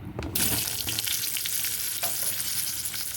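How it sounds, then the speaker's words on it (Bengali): Steady, dense sizzling of potatoes frying in hot oil, with occasional stirring scrapes, close and continuous throughout. "এবারে আলু ভেজে নেব"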